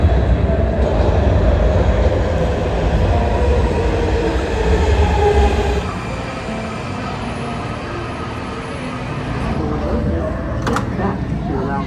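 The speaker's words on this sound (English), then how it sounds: "we're about to catch the train to Greenbelt to take us to Gallery Place, and that's going to be here in 2 minutes" A DC Metro subway train arriving at L'Enfant Plaza station, a loud, close rumbling roar of rail cars that eases off as it slows, with station announcements and voices speaking over it.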